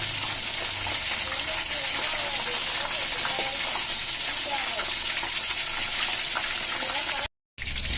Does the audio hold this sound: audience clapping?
no